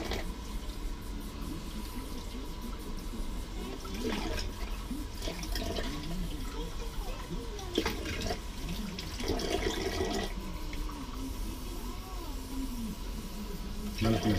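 Hot water runs steadily from a tap in an RV, a continuous hiss and splash with brief louder bursts, while a person talks quietly alongside.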